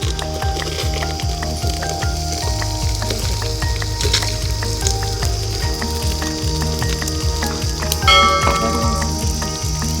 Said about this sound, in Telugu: ఇప్పుడు నూనె, ధనియాలు కొద్దిగా వేగినాయి కదా, ఇప్పుడు ఎండుమిరపకాయలు వేసుకుందాం